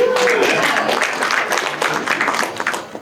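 Audience applause fills a room at an economic forecast breakfast, a dense, steady wash of many hands clapping close by for about three seconds, tapering slightly at the end.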